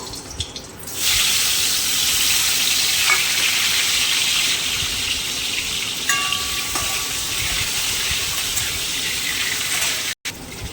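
Steady, loud sizzle of boiled potatoes frying in mustard oil, a continuous hiss that starts after a second and holds evenly, with a faint clink near the end.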